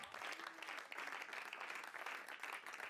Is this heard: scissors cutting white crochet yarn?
no